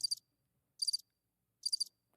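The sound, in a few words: crickets chirping sound effect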